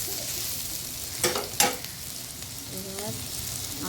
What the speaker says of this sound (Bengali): দেখো সবজিগুলো সব কষানো হয়ে গেছে